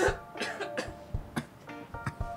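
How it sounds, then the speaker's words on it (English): A series of close, rough coughs in short bursts, a few throaty clears spaced irregularly, with no talking. "let me cough."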